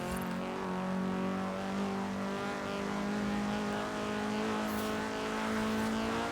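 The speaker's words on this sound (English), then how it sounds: "So, it's a V12 twin turbo engine" A V12 twin-turbo car engine in Forza Horizon 3, holding a steady, rich drone and rising slowly in pitch as it accelerates, loud and continuous with no voices.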